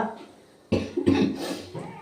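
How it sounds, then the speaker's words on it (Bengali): A person coughs several times in a short run, sharp close bursts after a moment of quiet, with a bit of throat noise between them. "দাঁড়া কাশি উঠে গেছে"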